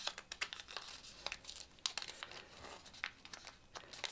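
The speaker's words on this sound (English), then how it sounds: "now we're going to fold it back so these layers that we just opened up fold all the way open" Paper being folded and creased by hand for a drone-style paper airplane: close, sharp crinkles and crackles in irregular bursts, with no talking.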